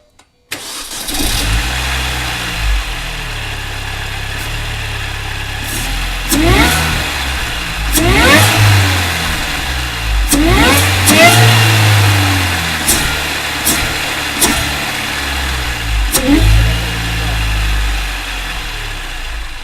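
A Mini R53 with a newly fitted intake cranks and fires up, then idles and is revved several times in rising and falling bursts, loud and close throughout.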